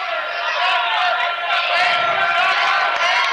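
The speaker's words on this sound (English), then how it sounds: "The crowd's getting excited" A crowd at a high school girls' varsity basketball game cheers and roars excitedly, a dense, loud wash of voices and whoops sustained throughout without a break.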